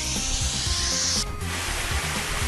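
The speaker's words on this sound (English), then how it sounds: "Water spray, this is water spray." Water spray at a car wash in an Android mobile car wash simulator game: a steady broadband hiss layered over looping game music, with a brief change near the middle.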